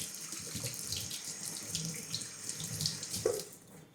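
Tap water pours steadily into a sink as soapy hands are rinsed clean before cooking, a continuous close splashing with no talking.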